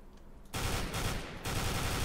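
Dense, loud bursts of rapid gunfire in Counter-Strike: Global Offensive fill the clip, one sustained volley followed by a brief dip and another, with no talking.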